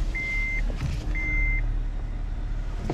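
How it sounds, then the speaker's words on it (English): Two steady electronic beeps of a tire pressure warning inside a 2010 Honda Insight, each about half a second long, sounding alone over a low idling engine hum in the cabin. "Let's see if the beeping still occurs."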